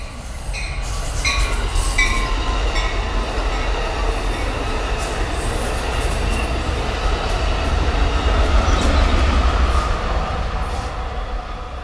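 A Metrolink commuter train rumbles steadily along banked tracks, heard from inside the car with continuous loud wheel roar and occasional squealing tones.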